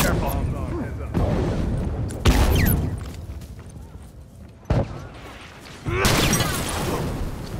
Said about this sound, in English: Start hitting him with bombs